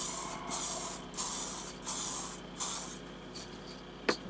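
An aerosol clear coat is sprayed over a printed water slide decal page in four short, hissing bursts, close and moderately loud, followed by a quiet pause and a single small click.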